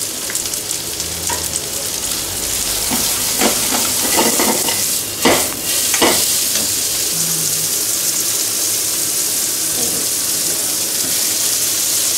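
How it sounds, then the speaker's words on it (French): Peppers and carrots hiss and sizzle with onions in a hot pan, a loud, continuous frying crackle with brief scraping stirs and clatters of a utensil partway through. "Dès que les oignons commencent à être même pas dorés, légèrement cuits, je mets les poivrons et les carottes."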